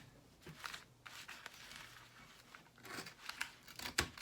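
Scissors snip through painter's tape while it is trimmed around the edge of a canvas, giving a few short, quiet cuts and crinkles close by, with pauses in between.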